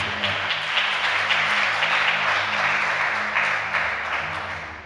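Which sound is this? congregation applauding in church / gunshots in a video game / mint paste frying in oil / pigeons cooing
congregation applauding in church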